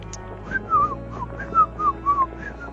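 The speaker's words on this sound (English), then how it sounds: "My whistle's dead." A failed whistle in the video game Trails of Cold Steel II: several short, breathy, wavering whistle attempts that rise and fall over a low background music bed, weak and sputtering rather than clean tones.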